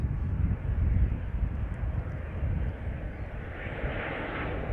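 Helvetic Embraer 190 airliner at Amsterdam Schiphol Airport, a steady broad engine roar that stays fairly constant and swells slightly toward the end, heard at moderate distance with no talking.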